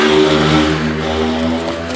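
An engine hum with a slowly shifting pitch passes outside, loud and steady over the whole moment with no talk, the tone drifting as it goes by.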